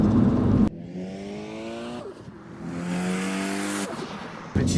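A Mitsubishi Eclipse with a slipping clutch accelerates hard, the engine note climbing steeply in two long revving pulls with a brief dip between them, loud and close with no talk.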